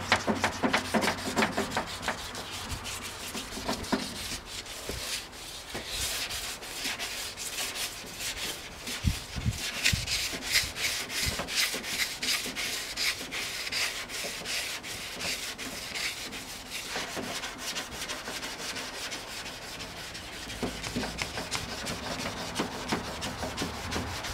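Wet sanding 1953 Ford F-100 truck fenders by hand with 400 grit sandpaper, a close, continuous rasping rub with steady back-and-forth strokes and no talking.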